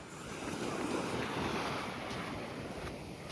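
Ocean waves wash onto a clean beach at Dwarka in a steady, broad roar of surf mixed with wind noise on the microphone, close and continuous with no talk.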